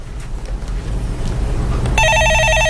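A telephone on a stock-market call-in broadcast starts ringing about two-thirds of the way through, a steady electronic trill repeating over low background hum, with no talk.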